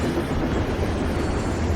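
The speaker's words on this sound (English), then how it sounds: "What's a Night City train doing behind a door?" A train in the video game Wuthering Waves rumbles with a steady, continuous low roar that holds throughout the short moment with no break.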